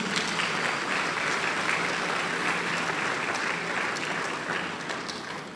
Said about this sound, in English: Mr. Mitchell needs a round of applause